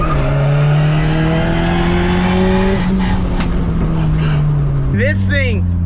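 A turbocharged Honda Civic D16 single-cam engine with an FMU drones loudly at steady revs, then the pitch shifts and rises sharply near the end, with voices faintly mixed underneath.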